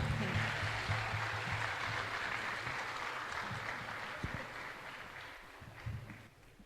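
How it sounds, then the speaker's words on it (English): An audience at a retreat anniversary gathering applauds after a song, a dense, even wash of clapping that holds steady for several seconds, with faint low murmurs and hum underneath before it tapers slightly toward the end. "Can we have another huge round of applause?"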